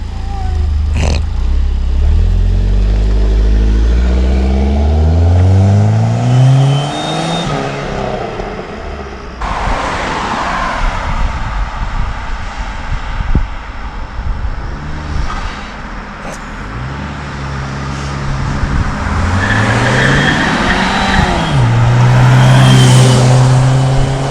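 A loud 2.4 turbo PT Cruiser with a catless downpipe revs and rumbles as it drives past, rising and falling in pitch with gear changes, then accelerating hard again nearby.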